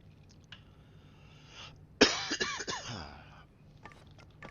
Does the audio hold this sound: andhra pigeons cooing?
no